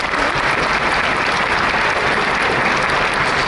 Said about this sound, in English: Please, you have a round of applause.